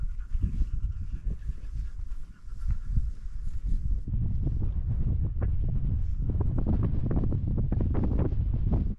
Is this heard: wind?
yes